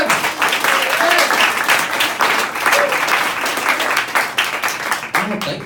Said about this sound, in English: Start clapping right now, everybody.